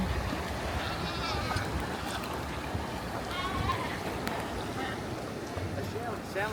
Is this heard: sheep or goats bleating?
yes